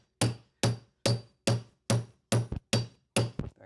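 Eight evenly spaced hammer taps, sharp and close, tucking a stair runner into place, each ringing briefly before the next strike, with a faint double tap toward the end.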